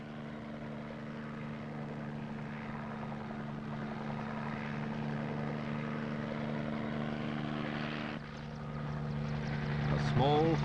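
A helicopter runs over jungle country with a steady droning hum and rotor throb that holds throughout, growing slightly louder toward the end, with a faint speaking voice underneath.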